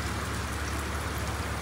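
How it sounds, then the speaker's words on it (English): Steady heavy rainfall, a thick unbroken hiss of drops hitting surfaces, nearby and fairly loud. "Nice and heavy too."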